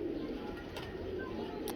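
A Heera Lal pigeon coos softly and steadily, a low continuous murmur sitting over a constant background hiss, with no voices heard.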